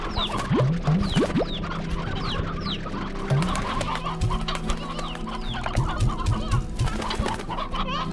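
Chickens and chicks in the farming video game Slime Rancher cluck and peep continuously, a dense, busy flock chatter with many overlapping calls at steady loudness, and no voices are heard.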